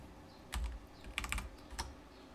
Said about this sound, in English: because I am typing so well today